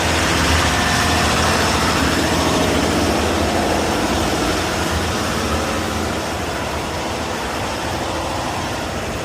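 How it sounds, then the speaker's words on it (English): A train engine runs in the engine room of a Bangladeshi passenger train, a loud, steady, rumbling drone with heavy low vibration that continues unbroken throughout. "Engine room, engine."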